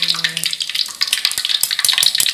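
Sliced tempeh, battered for yellow tempe mendoan, fries in hot oil with a loud, constant crackling sizzle and sharp pops, close up.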